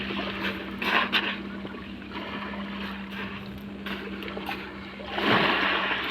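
Dead fish tossed from a boat into the sea off Oriental Mindoro make brief splashes, with louder bursts around the one-second mark and near the end, over a steady engine hum and lapping water.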